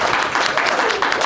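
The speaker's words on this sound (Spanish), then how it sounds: "Pido un fuerte aplauso a la radio." Loud audience applause at an academic conference on academic freedom in Cuba, dense clapping filling the short moment with no pauses.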